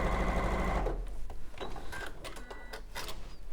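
A sewing machine stitches a quarter-inch seam joining quilt patches, right sides together. The motor runs in a fast, steady hum for about a second, then stops. Clicks and fabric handling follow nearby.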